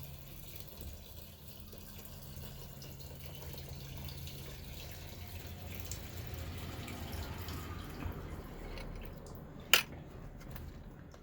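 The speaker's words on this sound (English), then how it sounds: "it's full with gasoline, so I'm just gonna pour it back in there" Gasoline pours steadily in a low, continuous trickle and splash for several seconds, with a brief sharp knock near the end, during a 2009 Volkswagen Jetta fuel pump replacement.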